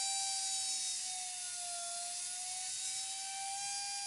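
Small RC helicopter motor spinning on an XKK170 ESC, a steady high-pitched electric whine with a strong tonal hum that dips briefly in pitch midway and then recovers, running alone without talk.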